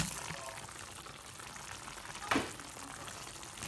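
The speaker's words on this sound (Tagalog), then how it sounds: "Ito na guys, kumukulo na siya." Water coming to a boil in a pot for noodles with vegetables, a steady soft bubbling hiss throughout with a brief louder clatter near the middle, close by and fairly quiet.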